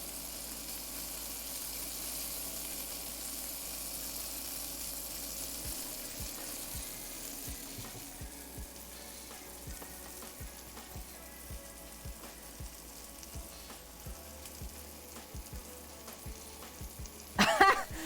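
Peppers and onions fry in a pan over high heat with a steady, fairly quiet sizzle throughout, broken by faint scattered clicks and a brief louder clatter near the end.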